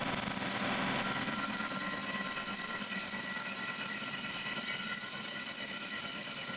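Woodland Mills WG24 stump grinder chewing into a stump, a steady, loud, continuous grinding roar with engine drone and no pauses throughout.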